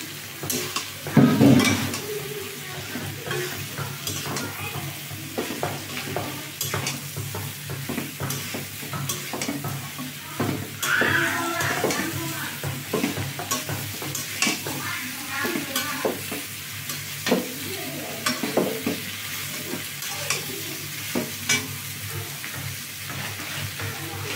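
Spiced masala with jackfruit being sautéed in a pan: a steady sizzle runs throughout, broken by repeated scraping and stirring strokes of a spoon, close and fairly loud, with no talking.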